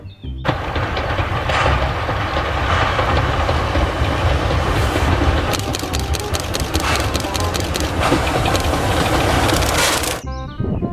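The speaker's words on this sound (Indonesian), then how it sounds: "Kalau yang ini namanya kereta api Thomas, teman-teman." A toy Thomas train rumbles steadily along the tracks with a rhythmic clatter of wheels, loud and close, continuing for several seconds without any voices.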